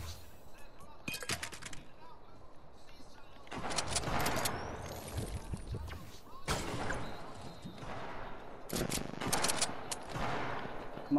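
Pistol shots in Fortnite ring out in several bursts of rapid gunfire, loud and close, separated by quieter stretches of game noise.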